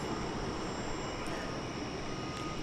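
A passenger airplane arriving at DFW Airport on a flight from Austin produces a steady, broad jet roar that holds at an even loudness throughout, with no voices.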